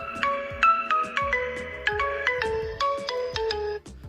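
Ringtone from a phone set off by the find-phone feature of a Fastrack Revoltt FR1 smartwatch, a clear, close melodic chime of quick repeated notes playing alone without speech.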